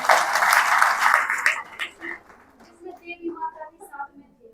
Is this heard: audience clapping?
yes